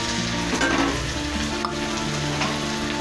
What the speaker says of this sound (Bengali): একটা বড় টমেটোর হাফ দিয়ে দেবো, একটু নাড়াচাড়া করে নেব।